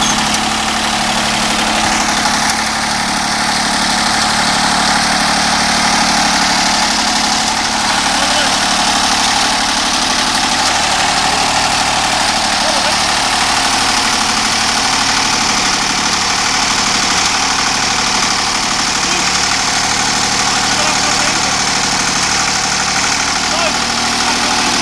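Restored Fordson Dexta tractor engine running at idle, a loud, steady diesel chug with a constant low drone and rattle throughout, close to the listener.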